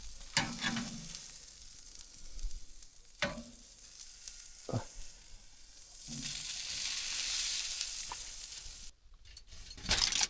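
Mushrooms sizzle and fry in a pan, with steady broadband crackle punctuated by a few louder scrapes and clatters of stirring, continuing up close without talk.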